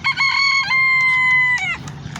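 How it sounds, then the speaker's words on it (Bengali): Roosters crow and chickens cluck at a poultry market in Abdali, Kuwait, with one long crow ringing out clearly close by and other fowl calling around it. "এগুলো সব বিভিন্ন জাতের মুরগি"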